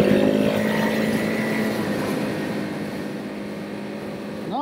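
A 2018 KTM 690 Enduro R motorcycle engine hums steadily while being ridden. A fairly loud, continuous drone blends with wind rush and holds an even level throughout.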